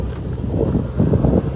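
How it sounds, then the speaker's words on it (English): Strong hot wind blows outdoors on an animal sanctuary farm, a continuous low buffeting roar that batters the microphone throughout, loud and steady with gusty swells. "it's so hot out here, and it's really windy"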